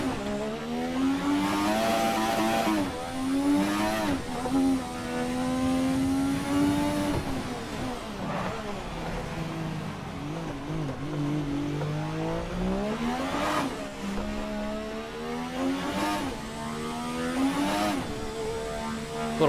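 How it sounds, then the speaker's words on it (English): A turbocharged car engine in the racing game Formula Drift revs up and down continuously, rising and falling in pitch through gear shifts, loud and close with no talking. "But I can hear the turbos"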